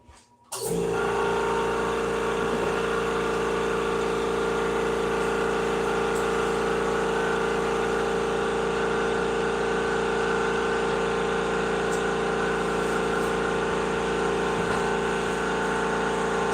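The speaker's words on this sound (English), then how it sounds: "I gotta run an air compressor quick here" An air compressor kicks on after a brief moment of quiet and then runs loud and steady, a constant droning motor hum with a strong tonal whine that holds unchanged for over fifteen seconds in a workshop.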